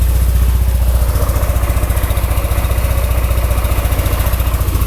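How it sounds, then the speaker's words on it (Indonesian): Yamaha NMAX scooter engine at about 1991 km, running steadily at idle close up, with an even, smooth putter and light mechanical clatter and no talking. "Suara mesin kayak gini ya."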